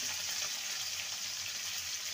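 Cauliflower frying in a pan for cauliflower chops gives a soft, continuous sizzle, close and fairly quiet, with no voices.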